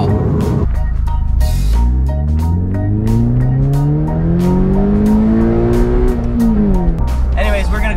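A car engine revs up loudly, its pitch climbing steadily through third gear before dropping at a shift, with a voice talking over it.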